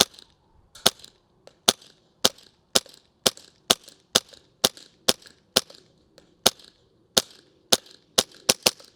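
A small airsoft gun fires about eighteen sharp, snappy shots at a target 100 feet away, spaced roughly half a second apart with a few brief pauses, clear and close with no talking.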